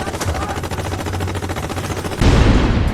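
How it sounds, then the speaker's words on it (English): Rapid machine gun and rifle fire in a battle sound effect, a dense continuous rattle of shots that swells into a heavier, louder barrage near the end. "while bullets rang out all around them."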